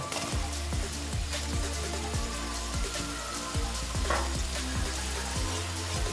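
Paneer pieces being stir-fried in oil that has separated from a cooked-down masala, a bright continuous sizzle with a regular spatula scraping rhythm against the pan, no voices.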